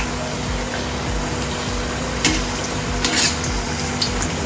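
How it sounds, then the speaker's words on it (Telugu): Garelu, lentil fritters, fry in oil over a medium flame, making a dense, steady sizzle with occasional brief crackling bursts, close and fairly loud, with no talk. "ఇలా మీడియం ఫ్లేమ్ మీద పెట్టి వేయించుకోవాలండి."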